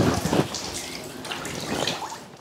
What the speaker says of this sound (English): It is recommended to shower the epitrachelium on two sides.